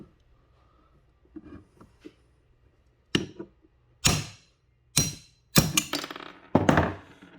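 A bushing is knocked out of a 1998 Yamaha Warrior 350 ATV using a socket. A few light taps lead into about half a dozen loud, sharp metallic thunks spaced roughly a second apart.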